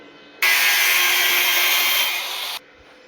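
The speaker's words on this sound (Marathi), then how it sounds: "ही पहिल्यांदा आपण ड्रिलने कट करून टाकू" A drill cutting off two protruding nuts on a homemade pipe-coiling machine makes one loud, continuous, high-pitched grinding whine that lasts about two seconds and then stops abruptly, with no talk.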